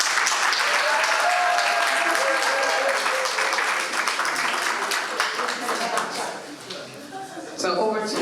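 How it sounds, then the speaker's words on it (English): Sustained audience applause at a convention hall in Houston, a dense, loud wash of many hands clapping that thins slightly toward the end, with voices mixed in. "I want you guys to applaud her"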